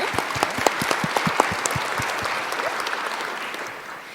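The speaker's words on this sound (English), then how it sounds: "clap for everybody in the room." An audience applauds steadily at a climate policy conference, a dense wash of many hands clapping at once. The sound is moderately loud and thins out toward the end.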